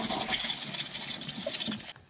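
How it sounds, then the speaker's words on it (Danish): A water jet rushes and splashes steadily against a small model water wheel, a dense hissing spray with light gurgles that runs continuously and then stops abruptly, leaving near silence. "Og så får vi lige at starte vandet her."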